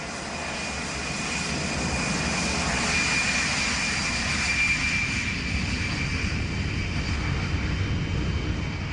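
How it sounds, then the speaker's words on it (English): An Aer Lingus passenger jet gives off a steady, droning engine roar that holds fairly even throughout, with a faint high whine on top and no voices. "We were on an Aer Lingus plane"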